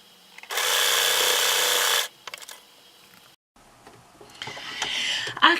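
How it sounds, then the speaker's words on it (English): A sewing machine stitching 1.5-inch patchwork strips for a lattice patch, a steady close motor whir running for about a second and a half, then stopping, followed by quieter handling sounds and a shorter burst of activity. "I'll just keep on sewing away."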